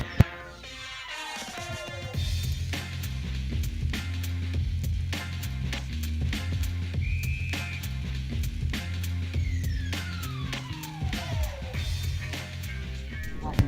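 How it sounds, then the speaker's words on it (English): A referee's whistle is blown to start a jai-alai game at Magic City Jai-Alai. It gives one short, steady blast over continuous background music and venue noise. "That's the whistle."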